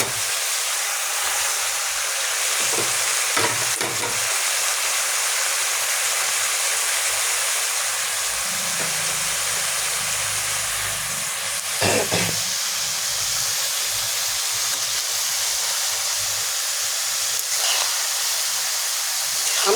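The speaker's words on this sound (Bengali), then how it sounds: "এবার আমি এর মধ্যে দিয়ে দেবো লাউ চিংড়ি" Bottle gourd and prawns sizzle in hot oil with cumin, turmeric and chili in a pan, a loud, steady hiss lasting throughout with a few brief clatters of stirring.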